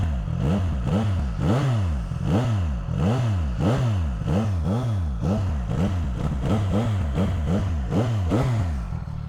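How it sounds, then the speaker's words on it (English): A CFMOTO 675 SR-R motorcycle with its stock exhaust is revved over and over, the engine note rising and falling in about a dozen quick, rhythmic bursts, close and loud. "For a stock exhaust, this actually sounds pretty nice."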